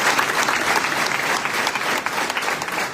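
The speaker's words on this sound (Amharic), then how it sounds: "Just clap for the person sitting next to you." Dense, loud applause from a large church conference audience fills the room, a continuous wash of many hands clapping without pause.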